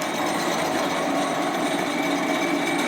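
Steady, continuous machine grinding of an Opel Corsa D cylinder head, with a high whine and broadband hiss, loud and unbroken throughout, cutting off abruptly at the very end.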